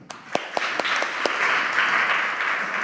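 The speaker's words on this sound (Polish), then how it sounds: "Wielkie brawa." An audience at a book event held in a theatre breaks into applause, opening with a few sharp separate claps before swelling into steady, dense clapping that fills the room.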